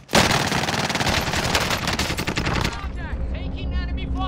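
Enemy gunfire in a multiplayer shooter video game: loud, dense automatic bursts rattle almost nonstop for nearly three seconds, then thin out into sparser shots and whistling effects.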